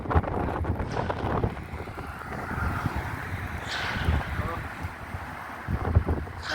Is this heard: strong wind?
yes